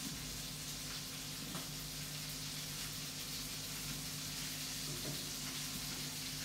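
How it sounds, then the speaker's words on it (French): Butter sizzles steadily in a pan as it browns to beurre noisette, a soft continuous hiss and crackle with an electrical hum underneath and no talk. "Dans ce petit beurre qui va devenir noisette doucement."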